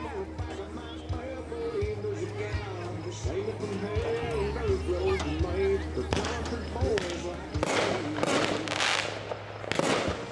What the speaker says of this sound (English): Next is Dragon Duel, a 16 shot cake.